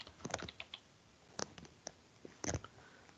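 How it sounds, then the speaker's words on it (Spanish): Someone types a name on a computer keyboard: sparse, quiet clicks in small irregular bursts, with short pauses between them. "voy a teclear aquí mi nombre"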